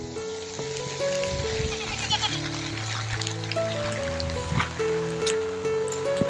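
Goats bleat in short wavering calls outdoors on a rainy hillside near a hill station, several cries overlapping against a steady wash of rain and running water.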